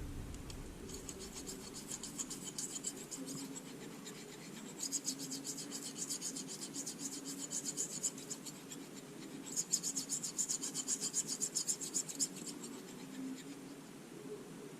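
An Opinel knife blade is drawn across a sharpening stone in repeated gritty, rasping strokes, steady and close. Each pass makes a scratchy hiss, and the strokes come in clusters with short pauses between them.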